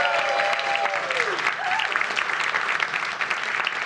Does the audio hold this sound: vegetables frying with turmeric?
no